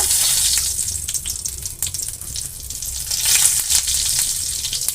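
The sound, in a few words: panch phoron spices and bay leaf sizzling in hot oil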